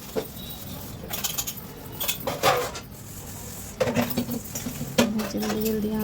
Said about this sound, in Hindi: यहाँ पे बर्तन धो रही हूँ